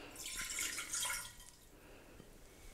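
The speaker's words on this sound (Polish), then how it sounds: "I teraz, Marysiu, wlej wodę do garnka" Water pouring from a tap into a medium saucepan in a home kitchen while making choux pastry, a steady hissing splash, loudest early on and then easing to a quieter trickle.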